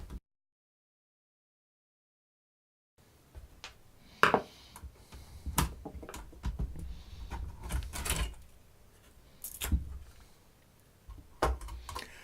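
Phillips screws being undone and a floppy drive lifted out of an FM Towns Marty console, heard as faint scattered clicks, scrapes and small mechanical knocks after a silent opening, with no talking.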